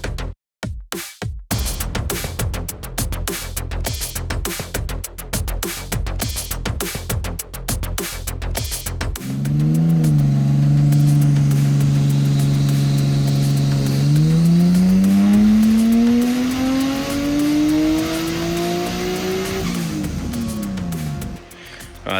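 A Nissan Skyline R32 with a turbocharged engine revs on a dyno, first with rapid choppy bursts, then a long sustained pull whose pitch climbs steadily before dropping off, loud and close.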